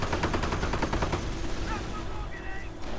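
Gunfire from a World War II strategy video game crackles in a dense burst of rapid rifle shots during the first second or so, then thins to scattered distant reports over a low rumble. Faint tonal game sounds follow near the end.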